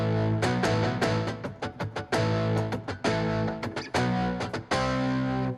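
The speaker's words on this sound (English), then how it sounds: "I had to do all of this distortion for 5 different guitars." Heavily distorted virtual guitar power chords from the MegaMagic Guitars plugin ring out in a rhythmic sequence of loud, crunchy stabs and sustained chords, alone without talk.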